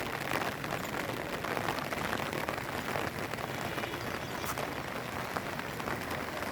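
Steady rain pours down over a flooded village where the Bhimakshi river has overflowed its banks into the lanes, a dense, even hiss of drops on surfaces that stays constant and close throughout, with no voices.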